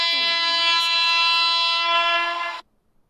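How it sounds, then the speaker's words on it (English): Goods train on an Indian railway sounding a long, loud, steady horn blast for about two and a half seconds before it cuts off abruptly, with faint rumble beneath. "This goods train."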